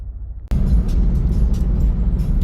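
Toyota Supra engine and road noise starting abruptly after a brief quiet moment, then a steady, loud low rumble of the car driving on the road, with no talking.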